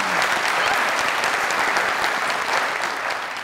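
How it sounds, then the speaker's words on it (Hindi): A studio audience at a comedy show claps steadily and briskly throughout, a dense, even burst of applause with no pauses, close and fairly loud. "जैसे आपने ताली मारी है ना आज शो पे"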